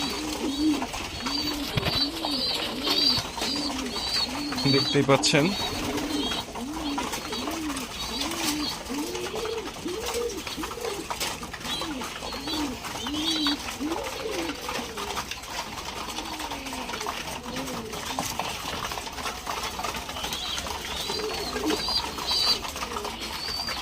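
Pigeons in a breeding loft coo steadily throughout, a dense overlapping chorus of low, rolling calls close by, with someone briefly speaking over them.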